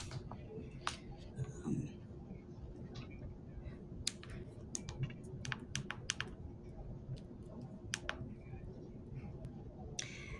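Keypad presses on a CADD infusion pump as a code is entered, a string of sharp irregular clicks and ticks over a low steady hum, close and fairly quiet.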